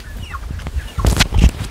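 Backyard chickens kept alongside pigs on a small home farm cluck in short, soft bursts, a few close calls building toward the end over faint background noise.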